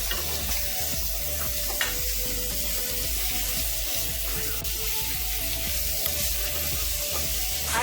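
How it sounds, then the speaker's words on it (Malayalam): Chicken pieces sizzle steadily in hot oil with sautéed onions, a dense continuous frying hiss close by, with occasional soft clinks and scrapes of stirring and no talking. "ഇനി ഇതിലേക്ക് നമ്മൾ വാഷ് ചെയ്ത് ഡ്രെയിൻ ചെയ്ത് വെച്ചിരിക്കുന്ന ചിക്കൻ പീസസ് ഇട്ടിട്ട് ഇളക്കി കൊടുക്കാം."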